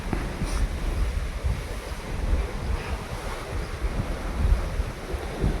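Strong wind gusts buffet the microphone outdoors while waves wash in steadily, a dense, continuous roar of surf and rushing air with no pauses.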